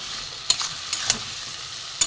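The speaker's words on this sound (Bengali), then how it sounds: "বেগুনের সাথে আমি চিংড়ি মাছের সাথে ভেজে নেবো এতে আমি কচু আর আলু কাটা আছে দিয়ে দেবো" Shrimp frying in a pan with eggplant, taro and potato, a soft steady sizzle broken by a few sharp scraping stirs near the start, middle and end.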